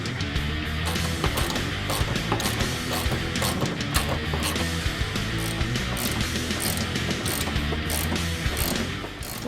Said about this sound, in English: And tighten down the lock bolts.